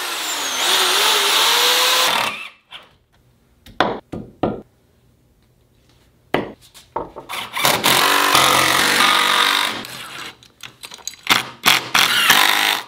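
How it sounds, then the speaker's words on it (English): A hammer drill bores mounting holes into a wall for a board: a loud sustained drilling burst at the start, then scattered sharp knocks and short drill bursts, close and uneven, with no talking. "use the hammer drill to mark all the other holes"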